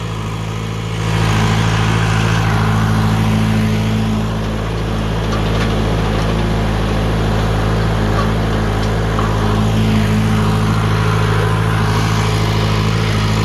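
A vehicle engine idles and runs steadily at close range as it rolls a newly planted field of grass flat, giving a constant low droning hum with only small shifts in loudness.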